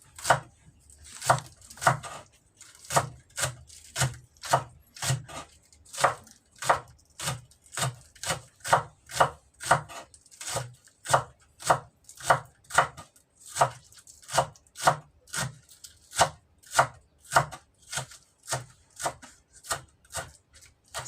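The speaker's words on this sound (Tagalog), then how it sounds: "So, dahan-dahan lang sa paghiwa" A knife slices spring onion on a cutting board in slow, even strokes, a long run of sharp, evenly spaced chops close up with no talking.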